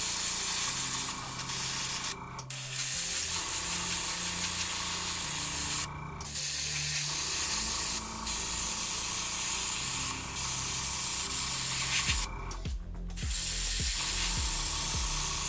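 A Grex airbrush sprays thermal color-changing dust paint in a close, constant airy hiss, broken by a few short pauses and faint mechanical clicks.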